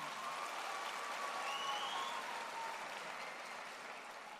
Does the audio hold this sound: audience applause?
yes